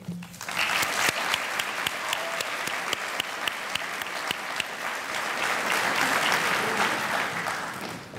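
Sustained graduation-ceremony applause from a large audience, building quickly into a steady, full roar of clapping that holds for several seconds with some sharp close claps standing out.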